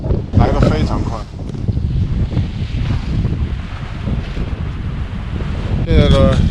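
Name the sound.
strong wind on a sailboat as a thunderstorm approaches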